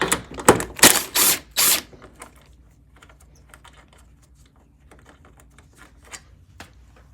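A ratchet turning a 10mm socket to remove a headlight bolt on a 2022–2023 Honda Civic: a burst of loud, rapid mechanical clicks up close, then faint scattered ticks and handling noises.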